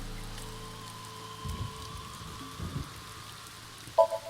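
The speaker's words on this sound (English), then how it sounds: "Thanks for coming out here in the rain." Steady rain falls in AI: The Somnium Files, a continuous wash with low rumbling swells and a brief tonal chime near the end, no voices.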